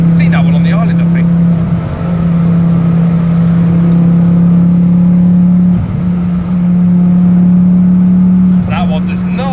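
A car engine drones loud and steady from inside the cabin while overtaking a Ford ST on a road, holding a strong, even hum with slight rises, and a voice speaks briefly near the start and end.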